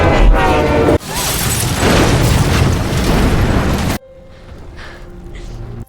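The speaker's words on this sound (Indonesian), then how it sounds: "Gak lama dari itu ledakan terjadi." A loud, roaring blast of noise erupts and rumbles for a few seconds, then cuts off sharply into quieter background sound.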